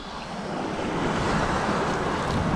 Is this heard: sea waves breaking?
yes